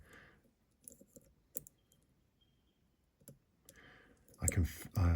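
Pins clicking as an Ingersoll lock is picked: a few small, sparse clicks spaced out over quiet moments, ending in a louder burst of rustling handling noise.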